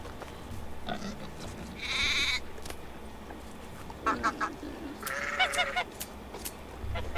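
A sheep in the video game Medieval Dynasty gives harsh, gurgling, vomit-like bleats in a few separate bursts over a steady background, with other animal calls nearby.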